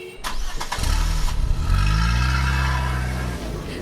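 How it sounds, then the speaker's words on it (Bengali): A bus engine cranks and catches, then settles into a deep, steady rumbling idle and pull-away, loud and close throughout. "ট্রেন আসার পরপরই বাস ছাড়ল।"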